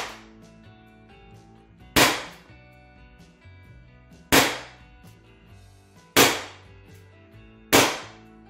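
An HDR 68 CO2 revolver fires four loud, sharp shots a couple of seconds apart, each cracking close with a short ringing tail over low background noise, and no voices.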